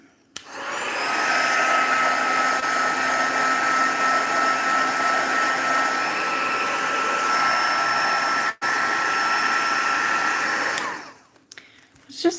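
A Crafters Choice heat tool blows hot air over craft work, a loud continuous whooshing whine that runs steadily for about ten seconds, cuts out briefly, then switches off near the end.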